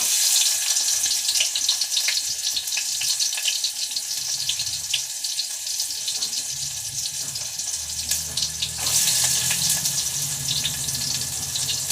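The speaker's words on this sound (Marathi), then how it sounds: "तर आता जिरं मोहरी झाली टाकून. तर आता आहे ना, एक कांदा टाकत आहे." Chopped onion dropped into hot oil tempered with cumin and mustard seeds, giving a loud, continuous hiss that stays close and steady throughout, with a brief surge near the end and no voices.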